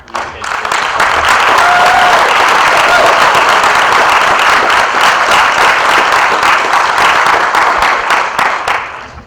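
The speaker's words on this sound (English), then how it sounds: "would you please join me in a round of applause for all of the current music educators" A hall audience bursts into sustained applause, dense clapping swelling quickly, holding loud and steady for several seconds, then tapering off near the end.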